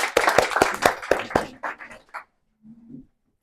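A small audience at a speech club meeting gives a short round of applause, a burst of close, distinct handclaps that thins out and stops after about two seconds, followed by a faint low murmur.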